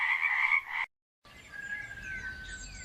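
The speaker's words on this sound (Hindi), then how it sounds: "उफ, इन मेंढकों ने तो हद ही कर दी। कितना शोर मचा रहे हैं।" Frogs croaking loudly and densely on a night, a close chorus that breaks off into brief silence before fainter croaks and calls return.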